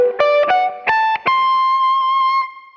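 A short electric guitar phrase with effects: a handful of quick picked notes climbing upward, ending on a long sustained bend that rings out and fades, played alone.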